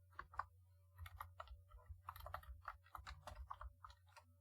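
Typing on a Raspberry Pi keyboard: quick, irregular key clicks in a steady close run, fairly quiet, over a low constant electrical hum.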